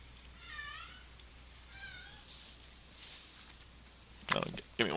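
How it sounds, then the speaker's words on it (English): A cat meows loudly over a voice call during a tabletop role-playing game, with drawn-out wavering cries coming over the line and other players talking in the background. "somebody else had a cat yelling at them from their screen"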